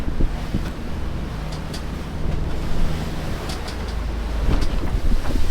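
Wind roars steadily across a sailboat heading straight into the wind en route through the Bahamas. The loud, continuous rumble of wind on the microphone blends with water rushing past the hull, and faint higher creaks come through.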